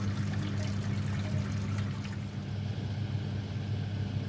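Water pours steadily over a wheat beer mash during a homebrew sparge, making a continuous splashing rush with a low rumbling undertone that holds at an even level the whole time.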